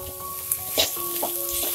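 Radish pieces sauté in a pan for poriyal with a steady, close sizzle. A few brief scraping stirs cut through, and no one speaks.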